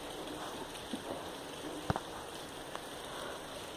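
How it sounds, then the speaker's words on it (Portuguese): Rain falling outdoors during a light shower, a steady soft hiss of drops with a few sharper taps standing out, fairly faint and continuous with no one talking. "Tá chovendo, olha isso."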